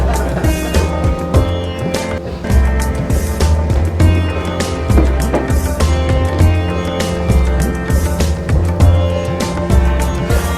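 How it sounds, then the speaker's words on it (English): Mahindra electric tuk-tuk driving along, a steady rolling, rattling road noise and low hum throughout with no engine note, continuous and fairly loud from inside the vehicle. "the world's first white guy driving an electric tuk-tuk"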